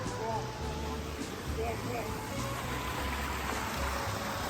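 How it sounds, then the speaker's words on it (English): A small river running down to the sea near a waterfall at Hayburn Wyke gives steady broadband rushing and trickling, with a voice talking over the water throughout. "It's like a little river that runs down to the sea. There's a waterfall the other side of there."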